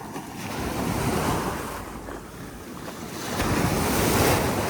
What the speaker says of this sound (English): You can hear the waves slushing.